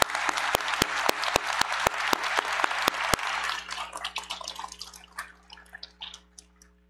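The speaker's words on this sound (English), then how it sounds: "you may applaud her." Audience at a university graduation commencement applauds a single graduate. Sharp, individual claps ring out in a reverberant hall and build into a steady patter, then thin out and fade to scattered claps.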